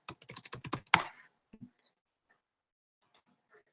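A command is typed on a computer keyboard: a quick burst of about ten sharp, close key clicks ending in a harder stroke, then a few scattered faint taps in near silence.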